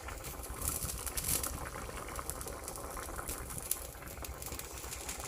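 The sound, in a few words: potato curry cooking in a pot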